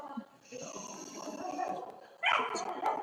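A dog making noisy vocal sounds at a close distance, a rough snuffling and barking mix that briefly rises louder near the end, with voices faintly underneath.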